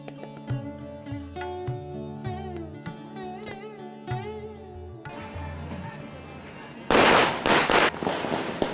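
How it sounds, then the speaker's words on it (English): A sudden burst of firecrackers goes off to welcome gurus during a religious procession at the Rajatotsava celebration, a dense crackling volley that breaks in loudly over ongoing music and chanting. "that sudden burst of firecrackers to welcome the Gurus"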